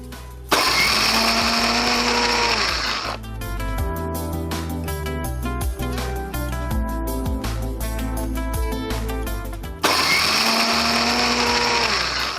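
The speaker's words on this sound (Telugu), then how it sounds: "ఓకే, ఇవన్నీ మిక్సీకి వేసుకోవాలి." A kitchen mixer grinder whirs loudly as it grinds green chilies and poppy seeds with a little water into paste, running in bursts with pulsing stops and restarts, close and alone.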